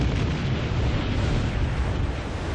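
A loud, sustained explosion roars with dense broadband rumble from a MythBusters lead balloon test, heard alone without talk over its short length.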